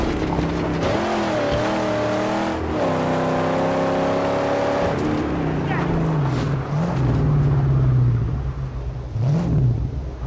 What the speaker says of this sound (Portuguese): Nosso barulho de carros.